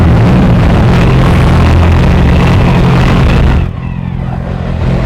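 A Suzuki V-Strom 1000XT motorcycle engine droning loudly while riding, mixed with heavy wind rush, steady for several seconds before the roar drops off abruptly near the end.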